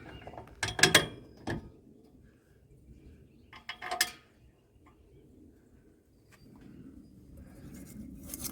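A ratchet turns carriage bolts on a Polaris Ranger rear bumper in two short bursts of clicking, close and fairly loud, separated by quiet stretches with faint background noise.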